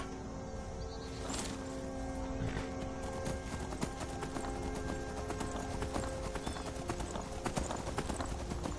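Horse hooves clip-clop in The Elder Scrolls V: Skyrim, a steady run of close, crisp hoofbeats with a brief whinny near the start, amid game ambience.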